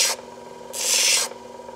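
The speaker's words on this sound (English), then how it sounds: "we're gonna go ahead and do that on the 180 disc" A 180-grit disc grinds a small fine bevel onto a piece of Nevada lapis stone, giving two short raspy rubbing bursts, a brief one at the start and a longer, louder one after a pause, over a steady motor hum.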